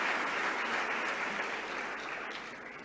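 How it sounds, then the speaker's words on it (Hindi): Dense, sustained applause from a large audience greeting the chief minister at a state event in Bhopal, steady and loud throughout and tapering slightly toward the end. "एक बार जोरदार तालियां बजाकर उनका स्वागत करें"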